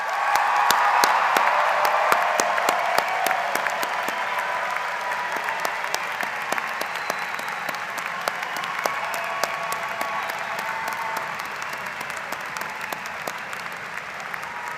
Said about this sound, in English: let's give one more huge round of applause to the graduates here